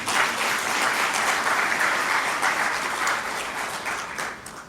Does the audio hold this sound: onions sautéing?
no